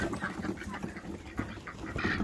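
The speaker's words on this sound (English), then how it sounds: "What are you ducks doing?" Ducks quack in a scattered chorus close by on a home garden property, a steady run of nasal calls with a louder burst near the end, no talk over them.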